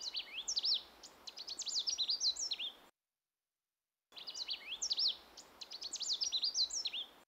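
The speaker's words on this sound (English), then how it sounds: "The Canada warbler is a small songbird." Canada warbler, a small songbird with a black necklace, delivering two bursts of complex, varied high song with hardly any repeated notes, separated by a short silent gap, fairly clear against a quiet background.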